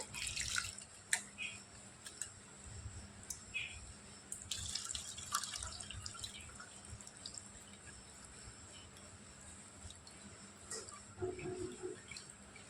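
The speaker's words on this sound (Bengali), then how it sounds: "সেই জন্য কিন্তু আলুগুলো খুব ভালো করে জল পাল্টে পাল্টে ধুয়ে নিতে হবে।" Potatoes being washed in a bowl of water while the water is changed repeatedly in a kitchen, with soft splashing, dripping and running tap sounds, close and fairly quiet, no talking.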